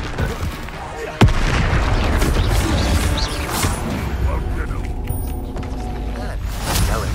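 Bombarda spell in Hogwarts Legacy going off with a sharp, loud blast, followed by several seconds of rumbling debris and crashing noise, with later thuds and scattered impacts.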